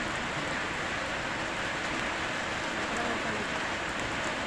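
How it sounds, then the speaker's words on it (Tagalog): Rain falls steadily after a sunny spell, a continuous, close, even hiss of drops that holds at the same level throughout with no distinct voices. "Kanina maaraw, ngayon umulan naman."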